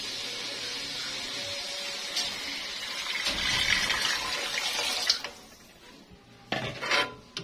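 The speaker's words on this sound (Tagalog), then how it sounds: "Then, lagyan na natin ng sabaw." Broth pours into a cooking pot with green peas and raisins, a steady liquid splash and rush that fades out, followed by clinks of a utensil against the pot.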